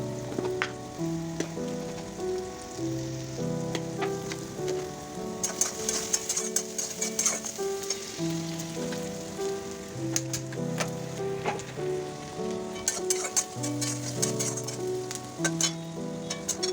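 Onions softening with a little salt in a pan give a steady crackling sizzle that runs the whole time beneath prominent melodic background music.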